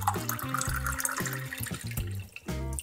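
Water is poured into a pot of honey and sugar for pickled peppers. Short, repeated glugging splashes rise and fall in pitch, quiet and close.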